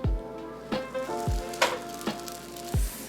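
Panini sizzle steadily in a lightly oiled frying pan, with several sharp clinks and scrapes of a utensil against the pan; no talking.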